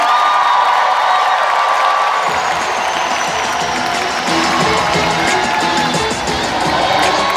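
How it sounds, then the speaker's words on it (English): A large crowd at a civic ceremony in Markham honouring Olympic sprinter Andre de Grasse bursts into sustained applause and cheering, with loud, continuous clapping and whoops filling the space. "Give it up for Andre de Grasse"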